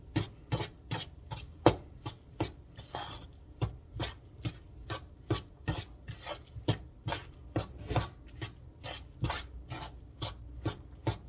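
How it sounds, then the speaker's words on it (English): Milk and flour being worked together into buttermilk biscuit dough: steady, close thumping and scraping strokes, roughly two per second, repeating evenly with no voices. "what I'm doing is just getting the milk and the flour to come together"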